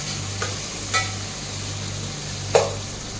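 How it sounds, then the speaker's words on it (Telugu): Onion frying in a pan during home cooking, heard as a steady low sizzle with occasional soft scrapes of stirring, close and quiet. "ఇలా ఫ్రై చేసుకుని ఓన్లీ ఆనియన్ ఒకటే మనం ఫ్రై చేస్తాము"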